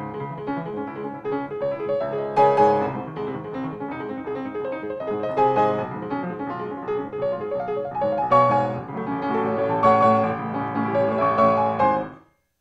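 Beethoven piano opening in a minor key, with chords moving in sequence in a steady, dense stream of notes at an even loudness for about twelve seconds, played alone with no voices.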